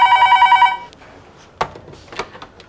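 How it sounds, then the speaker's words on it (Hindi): An old-style telephone bell rings in short rapid pulses in an indoor scene from a Hindi TV drama, then stops and is followed by quiet handling clicks. "फोन आ रहा है।"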